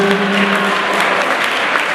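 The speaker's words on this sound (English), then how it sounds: "everybody put your hands together one more time" Applause from guests at a wedding reception, a loud, steady wash of clapping filling the room with faint crowd noise underneath.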